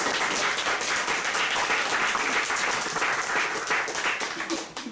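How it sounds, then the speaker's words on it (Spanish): A room full of people applauds loudly and continuously, a dense wash of clapping that tapers slightly at the end. "Ya pues, un aplauso a la Giovanna"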